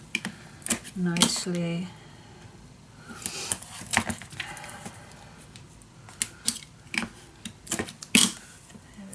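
Adhesive tape pulled and pressed onto scrapbook paper for a winter mini album, with short crackling rips and taps in irregular bursts, close by, under a voice speaking.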